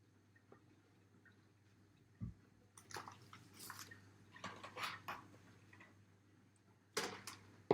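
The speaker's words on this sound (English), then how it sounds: "pour my batter from my bowl into my jug" Pancake batter is poured from a bowl into a jug, giving faint soft splashing and gloopy trickles with a few light clinks of crockery in a quiet kitchen, no talking.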